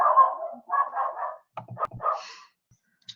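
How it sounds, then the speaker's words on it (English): A dog indoors gives a run of short, close barks and yips in quick bursts with brief pauses between them, ending in a faint whine. "my animals barking at the wind, most likely"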